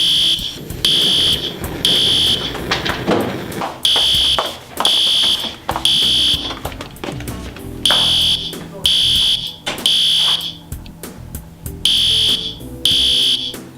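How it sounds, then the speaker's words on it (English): A fire alarm sounds in a chemistry lab with loud, piercing electronic beeps in repeated bursts of three that keep cycling steadily, close and dominant. "If a fire alarm happens to go off during a lab"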